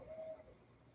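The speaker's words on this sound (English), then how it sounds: "Can you all hear the owl in the background?" A steady, hollow call rings out faintly in the distance over a low outdoor background, briefly sustained and then fading; it is heard as an owl calling.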